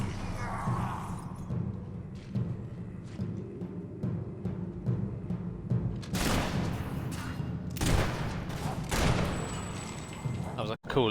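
Gunshots in the video game Fable 3 pop in a rapid series of sharp bursts over a low game ambience, with heavier blasts later and a final loud crack, a voice talking over them.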